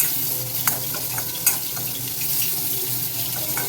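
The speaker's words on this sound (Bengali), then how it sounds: "এখানে এই যে আলু, সজনে ডাঁটা ভাজা হচ্ছে" Potato pieces and drumsticks fry in a pan with a dense, close sizzle like running water, broken by two brief clicks of stirring, and no voices.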